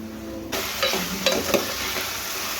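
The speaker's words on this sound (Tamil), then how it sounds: "முருங்கைக்காய், கத்திரிக்காய் இது ரெண்டுமே சேர்த்து நல்லா வதக்கிக்கணும்." Drumstick and brinjal sautéing in a pan for a dalcha, a bright sizzle that jumps in suddenly and stays steady, with a few scraping stirs on top.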